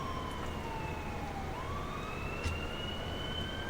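A wailing ambulance siren in a police-patrol video game set in a city, sweeping up and down in pitch over a steady low engine and traffic rumble, moderately distant and fairly quiet.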